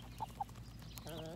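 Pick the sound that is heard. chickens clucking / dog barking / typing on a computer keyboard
chickens clucking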